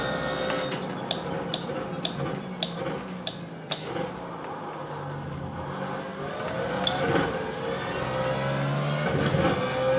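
A BMW Z4 GT3 race car in the iRacing simulator at Circuit of the Americas hums at moderate volume, with regular ticking clicks early on, then an engine note that builds and sweeps upward as the car accelerates.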